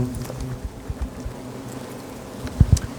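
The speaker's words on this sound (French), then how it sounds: "Parce que là, ouh, attaque de frelon hein." Hornets buzz around a nest in a low, wavering drone, with louder buzzing passes darting close near the end and no one talking.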